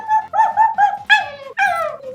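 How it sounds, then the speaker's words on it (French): A dog whimpers and whines in a close series of high, wavering, nasal cries, a few short and two longer rising ones, loud and near with no talking over them. "C'est un chien."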